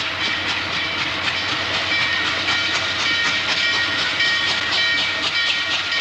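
Norfolk and Western 611 steam passenger train rolls past loudly and close, a continuous roar of hissing steam and rhythmic clickety-clack from the wheels, with no voices.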